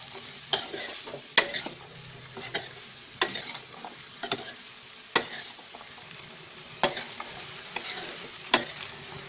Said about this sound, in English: Mix them well.